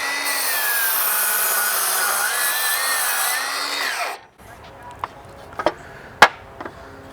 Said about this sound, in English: You can hear the motor powering through it.